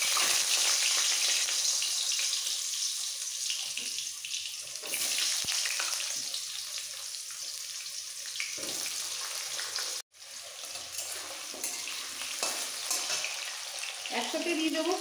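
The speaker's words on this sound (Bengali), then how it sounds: "এবার এই কড়াইতে আলু আর ফুলকপিটা আগে ভেজে নেবো।" Washed potatoes are frying in hot oil in a kadai, giving a steady hissing sizzle with bursts of spattering and a brief drop in sound partway through.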